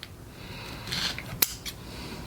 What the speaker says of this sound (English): now grab my scissors, gently cut the yarn